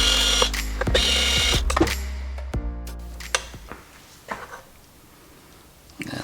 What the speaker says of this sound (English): I will have to take these 3 screws out of there.